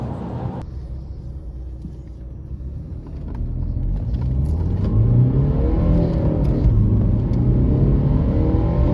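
Alpina D3 BiTurbo diesel car pulling away from a standing start, the engine note rising in pitch through the revs as it accelerates, a close, steadily building rumble with no talk.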